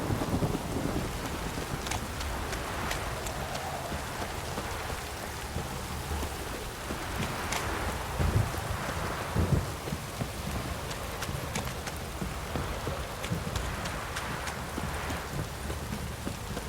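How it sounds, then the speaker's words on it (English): Heavy rain pours down steadily in The Witcher 3, a dense continuous hiss with faint scattered patter and distant rumbles, unbroken throughout with no talk. "This downpour's a bastard, it is."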